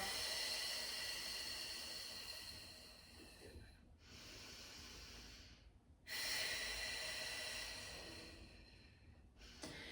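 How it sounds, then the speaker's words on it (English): Slow deep breaths during an abdominal exercise come close and airy, two long hissing exhale-and-inhale cycles separated by brief silent pauses. "Inhale and exhale."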